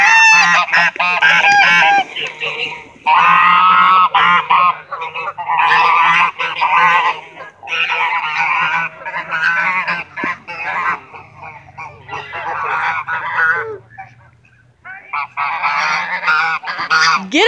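Geese at a duck park honk loudly and repeatedly, close by, in a raucous overlapping chorus with short pauses between bursts of calls.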